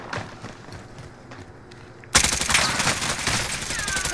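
Gunshots in Call of Duty: Modern Warfare start after a quiet, faintly ticking stretch, then erupt into a loud, sustained rattle of rapid fire that stays close and dense to the end.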